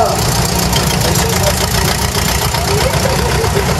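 An original vintage tractor runs at a village fair in Sainte-Anne-du-Castellet, its engine a loud, steady knocking idle throughout, with faint voices in the background.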